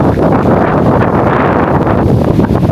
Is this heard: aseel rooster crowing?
no